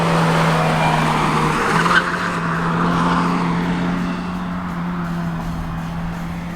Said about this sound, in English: you are rewarded with a thrashy sounding little peppy engine